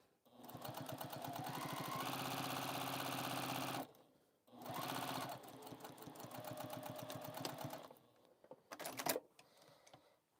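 A sewing machine stitches in long rapid bursts, a loud, close mechanical hum and chatter that stops briefly, restarts, then ends in a few short uneven spurts.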